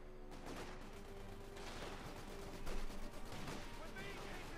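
Land Mattress rocket barrage in Company of Heroes 2, a rolling series of crackling impacts and bursts across a noisy battlefield, with a voice talking over it.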